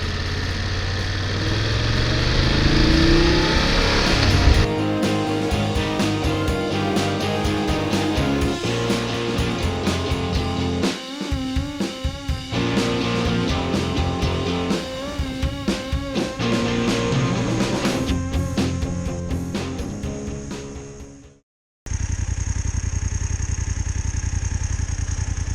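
A 2019 BMW F850GSA motorcycle ridden on empty curvy roads, its engine droning continuously and rising and falling with throttle and gear changes, wind noise mixed in, cutting out briefly near the end before resuming.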